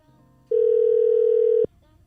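A phone call ringback tone: one loud steady beep lasting about a second, starting abruptly and cutting off, with quiet background before and after.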